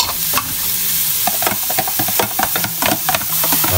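Carrots go into a hot frying pan for lumpiang sariwa, giving a steady loud sizzle and hiss with scraping stir noises layered over it, close up and continuous, with no talk.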